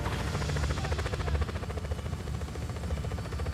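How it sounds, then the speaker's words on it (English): A helicopter engine in a video game, a steady loud rotor drone with a fast pulsing chop running unbroken throughout, with no talk over it. "Enemy is in a helicopter."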